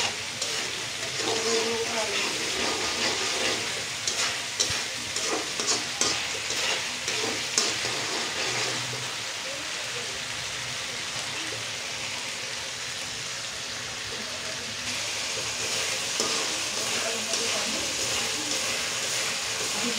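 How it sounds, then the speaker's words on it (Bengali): Pigeon meat with spices and chili powder stirred in a frying pan: a steady loud sizzle with repeated scraping and clinking of the spoon throughout, and a voice speaking now and then. "মশলাগুলো এখন ভালোভাবে মিক্স করে আস্তে আস্তে কালার চেঞ্জ হয়ে যাচ্ছে।"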